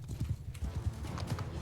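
Horses galloping in the video game Mount & Blade 2 Bannerlord, a steady rapid drumming of many hooves during a cavalry charge, close and continuous, with no talk over it.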